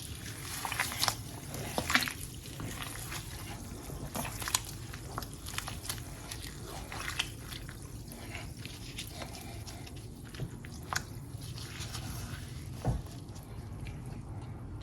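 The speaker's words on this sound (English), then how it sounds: "You add salt, and then we stir it in." Kenkey dough, salted fermented maize for Fante dokono, stirred by hand, giving soft wet squishes and sloshes in a steady rhythm close by, with no talk over it.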